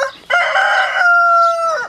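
A rooster crows once, loud and close, a drawn-out call that holds steady before trailing off.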